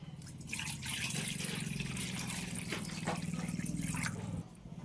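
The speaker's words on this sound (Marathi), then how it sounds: "आता या दुसऱ्या भांड्यातनी पाणी टाकून घेऊ" Water pours into a cooking pot in a steady, faint splashing stream that lasts several seconds before easing off, used for washing brinjals.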